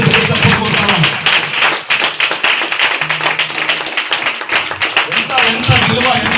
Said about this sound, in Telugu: నమ్మితే బిగ్గర చప్పట్లు కొడతారా?